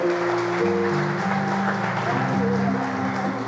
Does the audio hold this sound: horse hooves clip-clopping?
no